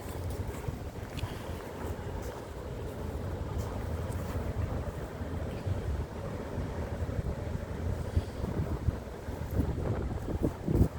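Cold, moderate wind blowing outdoors on a freezing day, a continuous rough rumbling buffet against the microphone with gusty swells, steady throughout and no voices.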